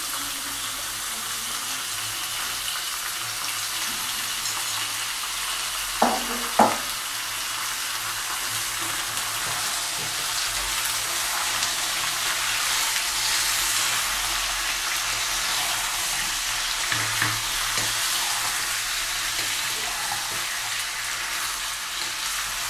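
Chicken pieces fry in a hot pan with a steady, close hiss of sizzling oil. A couple of brief knocks from the pan or utensil cut through the sizzle twice.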